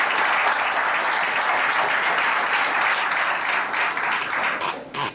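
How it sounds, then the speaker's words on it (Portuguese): A seated crowd at a business presentation in Porto Alegre gives a warm round of applause for a guest named Adler, thick continuous clapping that thins slightly toward the end. "eu queria uma salva de palmas pro Adler, por favor,"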